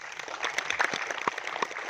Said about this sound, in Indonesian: terima kasih kepada Bang Akbar Tanjung, sekali lagi tepuk tangan.